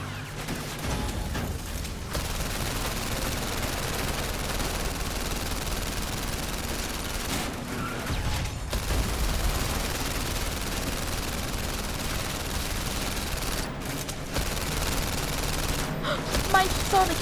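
Continuous dense gunfire from the PlayStation VR Worlds shooting game, a steady rattling barrage with brief gaps, mixed with excited talking and gasps from a player.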